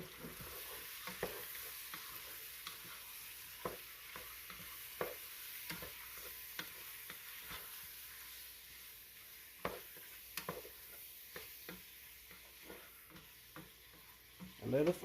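Shrimp frying in a pan for jambalaya-stuffed bell peppers, a steady low sizzle broken by repeated scraping and clacking stirs of a utensil, close and fairly quiet, with a brief louder clatter at the end.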